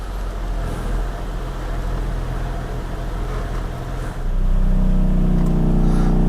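A car with worn motor mounts idles in gear with the air conditioning on, a steady rough low drone that grows heavier and louder partway through as the load increases, with no talk.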